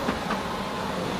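A tram passes along a Zagreb street, a loud, continuous rumble filling the whole moment with no pause.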